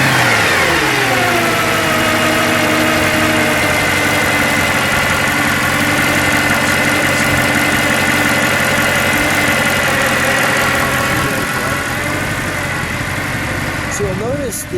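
A 2011 Mercedes-Benz SLS AMG Gullwing front mid-engine fires up and runs close by with the hood open, a loud continuous rumble that settles into a steady idle, with a rising pitch sweep near the end.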